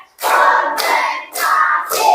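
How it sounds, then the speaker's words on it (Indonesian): A classroom group claps in unison in a counted rhythm, four loud bursts of clapping separated by short pauses, close and clear with no talking. "tepuk 5, tepuk semangat."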